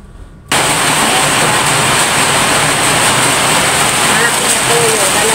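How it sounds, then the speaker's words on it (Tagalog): Heavy rain pours steadily outside a small sari-sari store, a dense, even hiss that starts abruptly after a brief quiet moment and holds loud and unbroken to the end. "malakas pa rin yung ulan"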